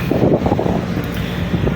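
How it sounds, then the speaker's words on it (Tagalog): Strong wind with rain roars steadily across the microphone in Alabat, Quezon, a dense low rumble with continuous buffeting and no pauses. "Wow, lakas ng hangin."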